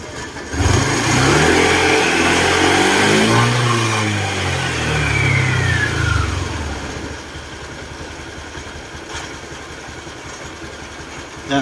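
Honda Click 150 scooter engine with a grinding noise inside and oil mixed with coolant, revving loudly up close, holding high for several seconds, then dropping back to a rough, lower idle.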